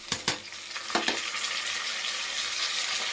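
Green chillies and mint fry in hot oil in a pan, giving a steady close sizzle, with a few stirring knocks early on and no voices.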